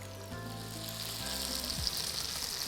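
Chicken pieces frying in a hot pan, a steady broadband sizzle that carries on unbroken, with a low hum fading out partway through and no talk over it.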